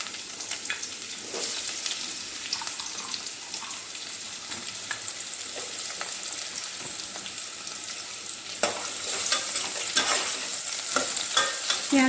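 Chopped onions fry in oil with bay leaves and dried red chillies, giving a steady close sizzle broken by scraping stirs that grows louder and busier near the end, with no talking.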